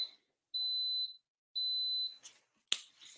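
Instant Pot electric pressure cooker sounding two steady high-pitched beeps, each about half a second long, followed by a couple of soft clicks and a sharp tap nearby.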